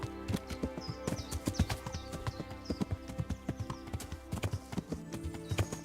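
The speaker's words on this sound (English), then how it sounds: "I've got a fast horse as well, so we can zip around." Horse hooves gallop in Kingdom Come: Deliverance, a fast steady clip-clop with sharp repeated strikes, close and clear, over a faint outdoor bed with occasional bird chirps.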